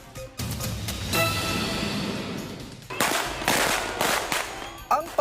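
Firecrackers bursting during New Year celebrations in Metro Manila, Philippines: dense, overlapping crackling explosions in rapid strings, loud and continuous, with a brief lull before another heavy volley and a few sharp pops at the end.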